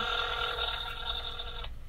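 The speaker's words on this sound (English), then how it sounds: "It's ringing" A telephone ringback tone on an outgoing call plays as one steady, close electronic tone lasting well over a second before cutting off, over a faint background hiss.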